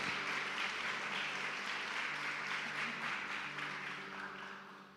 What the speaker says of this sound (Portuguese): Você pode dar um aplauso a Jesus hoje?